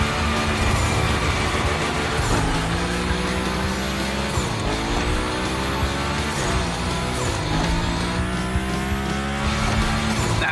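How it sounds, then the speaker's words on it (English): A car drifting along tire tracks in The Crew Motorfest gymkhana event, engine roaring loudly and constantly with repeated sliding tire squeals and gear-shift dips, close and unbroken. "Go slide his line, just follow his tire tracks."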